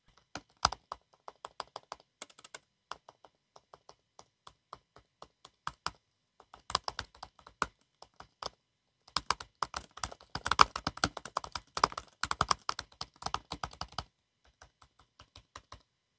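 Rapid light tapping on a 2017 MacBook Pro butterfly-switch keyboard comes through as sparse clicks that build into dense, quick bursts of shallow, clacky keystrokes, recorded close up with no voices.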